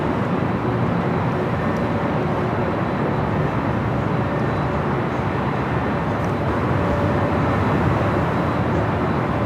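A Boeing 767 airliner taxis at LAX airport and gives off a steady, broad jet-engine rumble that never lets up. There is no talking.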